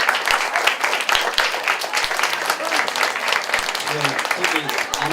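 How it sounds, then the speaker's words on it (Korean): Audience applause for the director at a staged reading-and-song performance in a Seoul hall, a continuous close crackle of clapping with a few sharper individual claps and some voices murmuring beneath it. "박수를"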